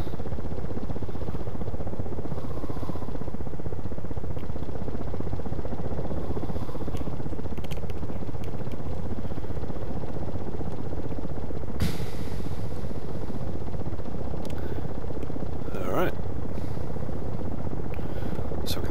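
A Ka-50 Black Shark helicopter flies in the DCS combat game, its rotor chopping in a steady, continuous thrum at moderate loudness, with no talk over it.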